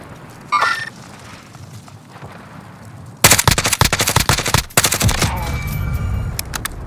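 Bursts of rapid automatic gunfire in a battle royale video game, loud and close, with a sharp stutter of shots, a short pause, then more firing trailing into quieter game ambience.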